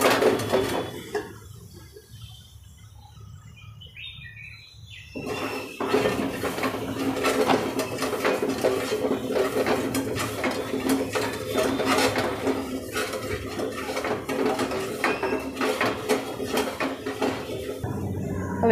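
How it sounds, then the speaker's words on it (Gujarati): A spoon stirs sugar in a pan until it melts for Jharkhand-style khaja, scraping and clinking against the metal. It is quiet at first, then a steady busy scraping runs continuously from about five seconds on, close by and without talk. "હવે ખાંડ પીગળે ત્યાં સુધી આપણે હલાવી લેવાનું"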